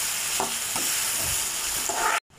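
Onions cooking covered in a pan for egg curry, a steady close sizzle and hiss with faint stirring scrapes, cut off abruptly near the end.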